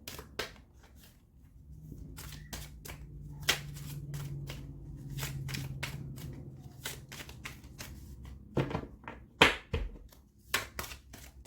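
Oracle advice cards shuffled up close, a run of crisp riffling and flicking bursts with short pauses between them, no one speaking.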